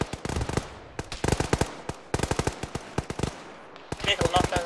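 Bursts of rapid gunfire crackle through a nighttime ShackTac Arma squad battle, sharp loud volleys in repeated clusters with brief gaps, some shots closer and punchier than others.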